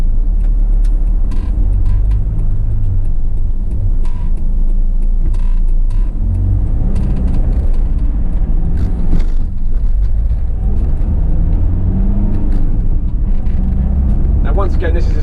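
A 2017 Mercedes-Benz Sprinter 314 CDI dropside truck with a six-speed gearbox drives along, its diesel engine and road rumble loud and continuous from inside the cab, with occasional knocks and rattles.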